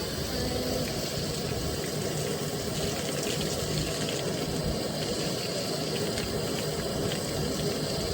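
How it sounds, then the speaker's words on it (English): Water running steadily into a bucket for a horse at a mustang show stall, a constant broadband gush with no pauses, fairly close and alone. "so I've been filling him up a bucket."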